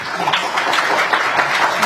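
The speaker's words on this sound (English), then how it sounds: "Please give our panel a big round of applause." Steady audience applause for a forum panel, a dense crackle of many hands clapping close by, sustained evenly throughout.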